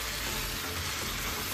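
Chicken frying in a pan with ground fried onions, a dense, steady, close sizzle with no pauses and no voices.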